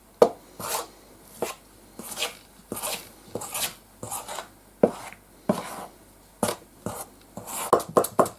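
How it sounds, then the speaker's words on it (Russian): A spoon scrapes and clacks against a bowl in repeated rhythmic strokes, stirring kefir cake batter, close and fairly crisp, with short pauses between each stir. "все это размешаем"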